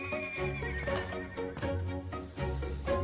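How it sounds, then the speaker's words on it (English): Horses whinny and neigh loudly and close by, with hooves clip-clopping in an irregular rhythm between the calls; no one speaks. "Look at the horses."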